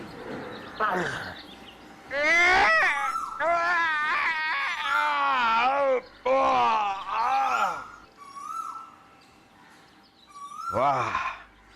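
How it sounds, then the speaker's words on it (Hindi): Someone cries inside a palace, letting out wavering, wailing sobs in several loud, close bursts separated by short pauses and quieter moans. "ये हमारे महल में से रोने की आवाज।"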